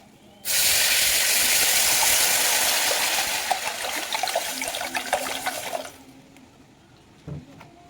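Water pours steadily into a cooking pot for an Odia khichdi dalma, a loud rushing hiss that starts abruptly, runs about five seconds, then stops, followed by a brief clink.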